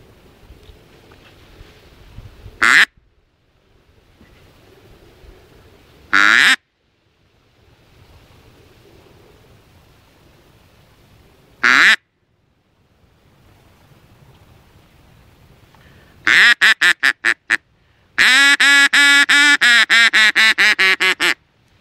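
Loud duck calls honk out in single bursts spaced several seconds apart, then a rapid run of quacks and a long rasping series near the end, all over quiet outdoor background noise.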